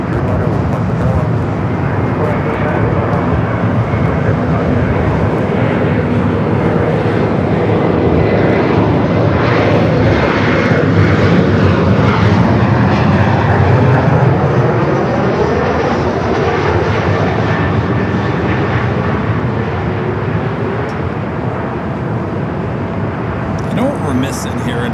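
Jet and propeller aircraft engines roar steadily at Los Angeles LAX airport, a loud continuous rumble and whine with shifting tones as planes taxi and take off, with voices talking faintly under the noise.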